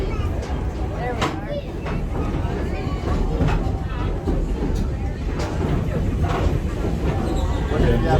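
An Oregon Coast Scenic Railroad train rolls along the tracks with a steady low rumble and rattle. Chatter and voices from passengers ride on top of it throughout.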